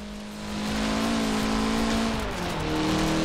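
Mitsubishi Lancer Evolution engine in Forza Horizon 4, revving loudly and steadily with a droning, rising and falling tone, close and alone without talk.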